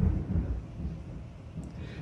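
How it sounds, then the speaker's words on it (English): Low rumbling thunder from a night thunderstorm rolls steadily in the background, moderately loud and continuous with no one talking. "you know what that means, a thunderstorm"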